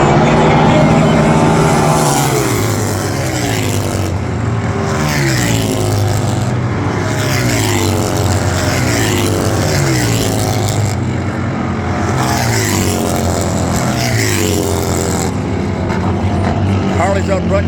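Harley-Davidson and Indian bagger motorcycles race at Daytona in the King of the Baggers event, their engines droning loud and steady with rising and falling pitch as they run close together under commentary.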